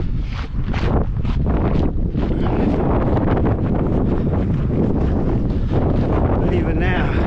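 Strong wind buffets an outdoor microphone in a busy seaside car park, a loud continuous rumbling roar with gusty swells throughout.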